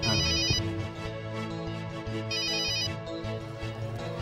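Telephone ringtone playing a repeating electronic melody with bright tones, steady and fairly loud, with no voices over it.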